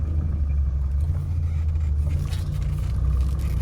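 A classic car with sticky brakes creeping slowly into a garage, a low steady engine rumble with faint scraping, close and continuous, no talking.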